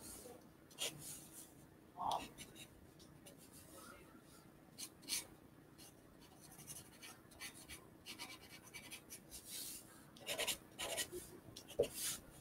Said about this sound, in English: So I'm just going to keep drawing.